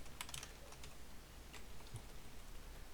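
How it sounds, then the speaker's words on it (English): Fast typing on a computer keyboard at a command line: a quiet, rapid run of small clicks with a few sharper keystrokes over low background hum, no voices. "Trying to type a little too fast here"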